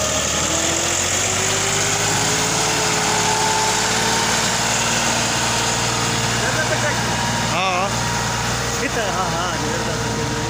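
A steady tractor engine drones continuously throughout, a low mechanical rumble with faint voices mixed in.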